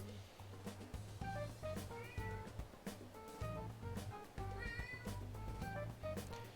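A pet cat named Pumpernickel lets out a series of loud, drawn-out meows in close succession, each rising and falling in pitch, over a steady low background hum.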